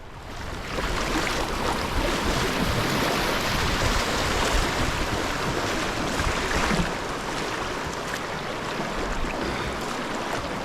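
Swift, pushy river water rushing and hissing around a canoe during solo whitewater paddling in the Yukon wilderness, a broad, steady wash that swells then eases slightly, with no talk.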